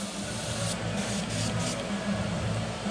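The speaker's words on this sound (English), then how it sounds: "Having some issues with my spray gun here." An airbrush spray gun that is acting up sputters with a steady hiss, broken by a few brief bursts of stronger spraying near the middle, fairly close and faint.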